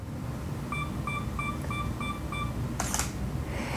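A DSLR camera on a two-second self timer emits a row of evenly spaced short beeps over steady room hiss, followed near the end by a brief shutter release click.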